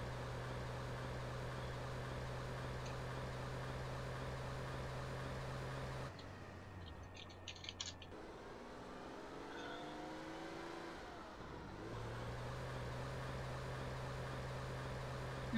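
A car drives in GTA San Andreas multiplayer with a steady engine drone, which drops away for several seconds and then returns, with faint clatter in the gap and no talk.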